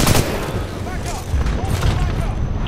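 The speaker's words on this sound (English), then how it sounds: "enemy Titan exploding." An enemy Titan blows up in the Titanfall 2 Attrition match on the Exoplanet map, a dense roar of blasts and crackling gunfire that stays loud and continuous through the moment.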